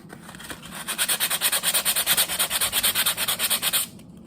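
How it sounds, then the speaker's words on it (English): Hand sanding over a drywall repair, quick rhythmic back-and-forth rasping strokes, close and fairly loud, running steadily for about three seconds before stopping. "And then I'm going to sand it again."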